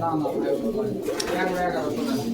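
Domestic pigeons coo at a busy pigeon market, their soft repeated calls mixing with steady crowd chatter and nearby talk throughout.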